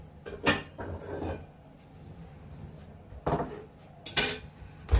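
Dishes and cutlery clink as food is put onto plates: a few separate bursts of metal-on-ceramic scraping and clinking, close and fairly loud, with quieter kitchen handling between them.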